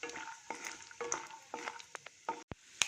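Mustard seeds, chana dal, urad dal, fenugreek and cumin frying in hot oil, crackling with irregular sharp pops and spatters over a soft sizzle, close and fairly quiet, no voices.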